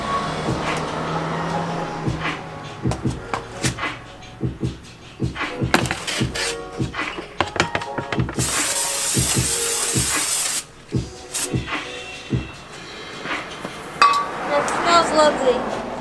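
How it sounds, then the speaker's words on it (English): Brake cleaner sprayed from an aerosol can onto new car brake rotors, a loud hissing burst lasting a couple of seconds amid clinking metal handling sounds and someone talking nearby. "get your handy dandy brake cleaner"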